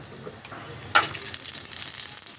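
Bay leaf, a whole dried chili and panch phoron dropped into hot oil, a sharp hiss at about the one-second mark settling into a steady, close sizzle with faint crackles, no speech.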